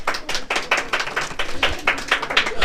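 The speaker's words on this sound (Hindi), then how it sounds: "इसके लिए जोरदार तालियां।" A small group applauds at a school exam prize-giving, close, brisk, uneven hand claps repeating steadily without a break and with no talking.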